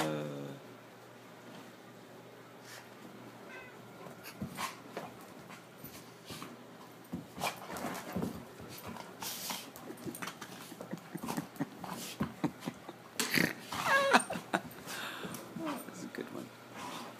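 Two dogs play roughly, panting, scuffling and letting out whimpers and yelps that build in the second half, with people talking and calling encouragement over the commotion.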